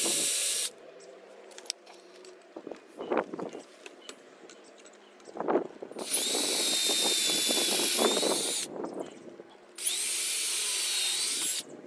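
A power drill drives screws through new deck rails into mounted L brackets, with short bursts of scraping and handling noise before two long, loud whirring runs of the drill.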